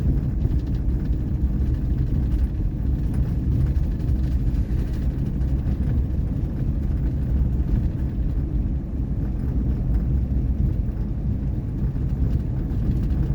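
A 1959 Ford Fairlane 500 rolls along, loose-steered and riding rough, giving a continuous heavy low rumble with rattly road and chassis noise that stays loud and steady from start to finish, no talking.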